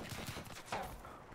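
Rapid bursts of light machine gun fire from Black Ops 3 on the Rise map, loud and close, with dense overlapping shots over a short stretch.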